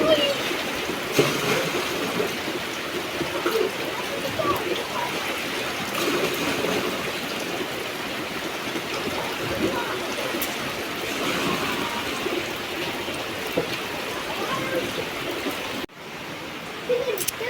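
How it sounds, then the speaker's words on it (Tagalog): Light rain falls steadily on an outdoor home setting in the Philippines, a dense, even hiss of drops and splatter running the whole length at moderate level, with a brief dip near the end. "Hindi malakas yung ulan, sakto lang."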